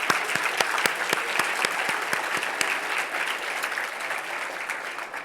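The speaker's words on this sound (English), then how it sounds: "So please join me in a big round of applause for both the Climate Institute and Net Zero's teams." Audience applause at a net zero climate event: a room of people clapping steadily for several seconds, with some sharp, close individual claps standing out at first before the sound settles into an even wash.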